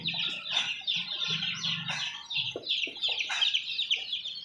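Gavran Kaveri country chickens held in cages at a poultry shop cluck and squawk in overlapping, steady bursts, fairly close and loud, with no talk.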